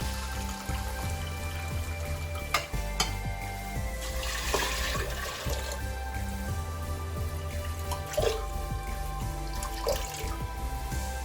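Water is poured from a cup into a cooker holding millet on a stove, a running splash with small knocks and clinks from the pot throughout.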